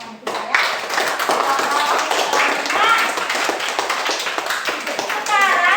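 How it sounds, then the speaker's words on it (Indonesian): Pupils in a primary school classroom applaud a classmate, with many hands clapping in a steady, dense patter that runs throughout, mixed with children's voices. "Kita beri dulu tepuk tangan untuk teman kita ya."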